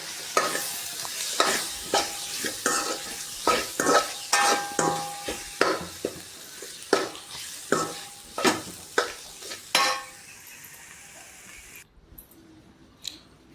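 A mashed potato, tomato and onion mixture is stirred in a frying pan, with rhythmic scraping and squishing strokes about once a second over a light sizzle, then quieter near the end.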